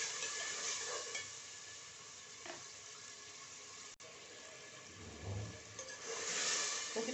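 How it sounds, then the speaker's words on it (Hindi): Chicken frying in masala in a pot, a steady wet sizzle with faint stirring and clinks, moderately quiet and continuous with no talk. "तकरीबन 5 मिनट हो गए गोश्त को भूनते हुए"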